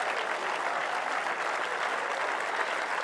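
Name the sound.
audience applause welcoming Cesare Fiorio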